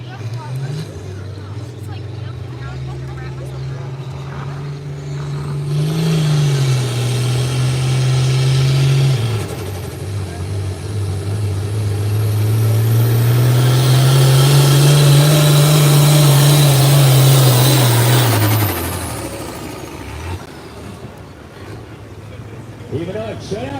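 A truck roars loudly under load on a tractor pull run at the Craigsville summer pull, rising hard for a few seconds, easing, then swelling again into a long sustained howl before cutting off, with an announcer talking over it.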